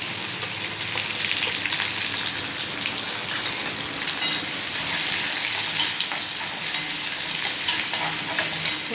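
Onion and curry leaves fry in hot oil for a tempering in a methi besan dish, giving a loud, continuous close-up sizzle with crackling pops and occasional stirring.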